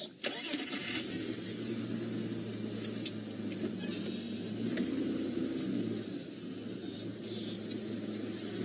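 A safari game-drive vehicle's engine turns over and then keeps up a low, steady rumble as it pulls away, heard from fairly close amid outdoor hiss and a few faint knocks.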